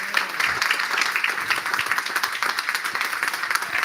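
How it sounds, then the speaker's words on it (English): Sustained applause from an audience at a book launch event in a pub, dense steady clapping filling the room for the whole stretch, with no voices standing out. "So please give them both a round of applause"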